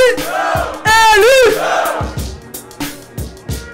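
Crowd at a Brazilian rap battle duel in Federal District chants a two-syllable shout in unison, loud and repeated, followed by rhythmic rapping over a beat with deep thumps.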